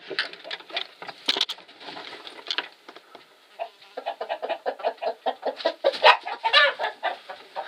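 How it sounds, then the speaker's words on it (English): Rhode Island Red chickens and two roosters clucking nearby, a scattered run of short clucks and calls that pauses briefly, then returns as a faster, steadier stream of clucking. "Those are 2 roosters."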